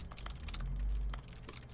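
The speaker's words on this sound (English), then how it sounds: "Oh, new keyboard sounds." Soft, scattered keyboard clicks from the typing sound effect in The Stanley Parable: Ultra Deluxe, faint and irregular over a low rumbling background hum.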